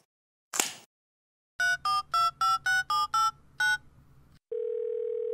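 A telephone in a children's puppet show is dialed: a short click, then seven quick two-note keypad tones in an even rhythm, followed by a steady ringing tone on the line.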